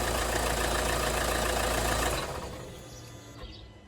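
A 2014 Kia Sportage 2.0 CRDI diesel engine idles steadily and loudly, then is switched off about two seconds in, its rumble fading into quiet room noise.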